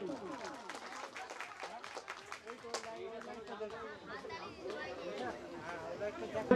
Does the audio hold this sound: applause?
yes